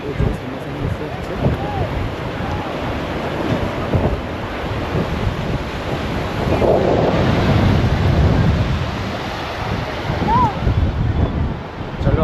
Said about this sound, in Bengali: সমুদ্রের ঢেউ খুব ভালো আছে, রোজই ভালো, কোনোদিন কম নেই